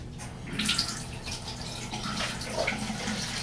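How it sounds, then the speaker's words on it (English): Hands being rinsed under a running tap after lathering with Mitchell's Wool Fat shaving soap, a quiet steady stream of water with soft splashing and dripping throughout. "let me rinse my hands off"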